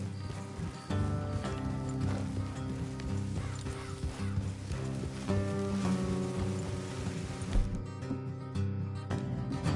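Horses clip-clop along a road in the Red Dead Redemption 2 video game, steady hoofbeats with tack jingles and faint whinnies under a layered music score, fairly close and continuous.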